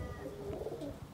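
Domestic pigeon cooing, a soft, low, throaty call close by, brief and steady with faint background noise.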